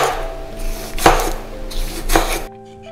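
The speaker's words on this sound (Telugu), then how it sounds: "ఒక టమోటో తీసుకుని చాలా సన్నటి స్లైసెస్గా కట్ చేసుకోవాలి." A knife slices a tomato into thin slices for a quick egg-and-tomato breakfast, with two distinct cutting strokes against the board over a steady low background tone.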